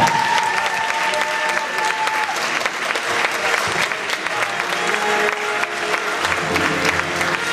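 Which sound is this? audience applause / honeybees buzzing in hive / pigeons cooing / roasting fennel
audience applause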